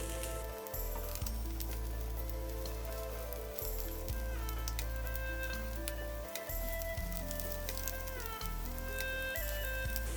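Chinese chive pockets fry in a covered pan with a steady, soft sizzle and crackle throughout, faint and even, with no voices.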